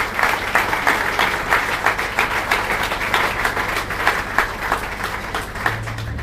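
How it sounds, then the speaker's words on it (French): An audience at a tribute ceremony for a university founder applauds steadily, many hands clapping in a fairly even, sustained rhythm at close range with no voices over it. "j'aimerais souhaiter que l'audience puisse l'applaudir fortement"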